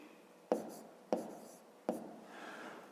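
Pen strokes writing a fifth-grade maths calculation by hand, three sharp taps on paper followed by brief scratching, close and quiet with no talk.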